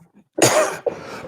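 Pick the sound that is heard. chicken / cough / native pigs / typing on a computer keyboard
cough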